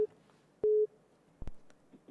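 A telephone busy tone sounds after a radio call-in line drops, with short repeated steady beeps broken by a couple of clicks on the line and a faint background murmur.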